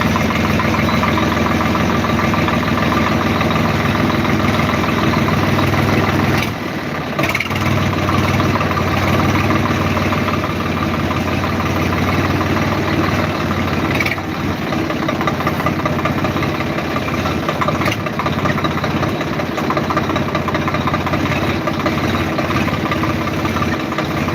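A tractor engine runs steadily on a rough farm road, a loud continuous low rumble with a mechanical knock throughout and a brief dip partway, with no voices.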